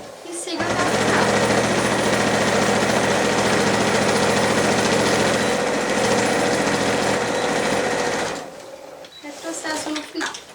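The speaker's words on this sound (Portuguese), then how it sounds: "Vou passar a costura de reforço aqui no meio, ó." Sewing machine stitching a reinforcement seam down the middle of a shopper bag, a close, steady mechanical whir lasting about eight seconds before stopping, with faint handling sounds afterward.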